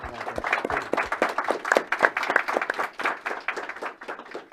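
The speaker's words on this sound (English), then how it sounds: "let's have a nice round of applause for law enforcement" Audience applause honoring law enforcement at a community event: a crowd claps in a dense, lively burst of many hands, fairly close and loud, gradually thinning toward the end.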